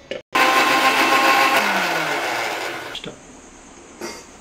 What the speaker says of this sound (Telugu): ఇది ఇప్పుడు మిక్సీ పట్టేద్దాం